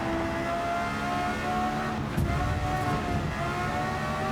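Lexus LFA engine droning steadily on a track in Gran Turismo 7, close and loud throughout, with a brief burst of rougher noise near the middle as it shifts or brushes another car.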